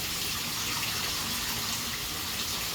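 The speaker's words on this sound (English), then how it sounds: "I'm just giving it another wash because I want to make sure there's no pesticides or anything" Tap water runs steadily over fresh spinach leaves being washed in a sink, a continuous close splashing rush with no talking.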